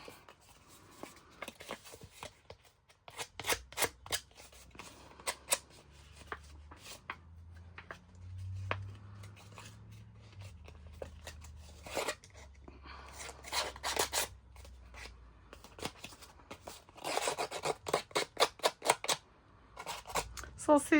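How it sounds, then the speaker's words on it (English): Tim Holtz scissors distress the edges of cardstock, giving repeated short scraping and snipping bursts in uneven clusters, close and fairly crisp, with quiet gaps between. "Tim Holtz scissors do that fabulously"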